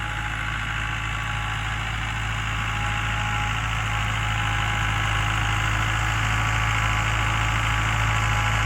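A small International tractor engine idles and chugs steadily and up close, a constant low mechanical drone with no voices over it.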